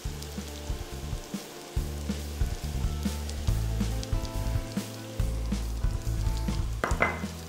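Pineapple pieces with brown sugar sizzle steadily in a pan, an even crackling fry with intermittent low clunks and scrapes of stirring.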